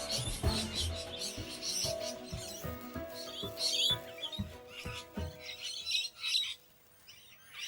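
Several parrots squawk and chatter close by, a busy overlapping mix of harsh calls, clicks and chirps with short gaps, no voices.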